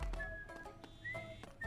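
Game characters in Goat Simulator 3 whistle a few sustained, steady notes, each held about a second, over a low rumbling game backdrop at moderate loudness.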